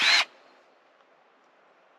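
A power drill whirs into larch wood in a short, loud, high burst lasting a fraction of a second, then cuts off, leaving a quiet outdoor background.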